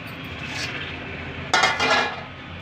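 A metal lid is set onto a cooking pot of simmering lentils and amaranth greens, a single bright clatter and ring over a soft kitchen hiss.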